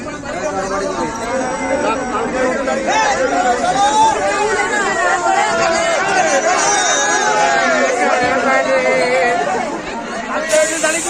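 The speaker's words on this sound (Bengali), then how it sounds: "স্টেশন ঢুকছি, জয়রামবাটি স্টেশনে ঢুকছি। প্রচন্ড ভিড়।" Dense crowd chatter fills a packed Jayrambati railway station on a village rail line, many voices overlapping into a loud, continuous babble close around the listener for the whole stretch.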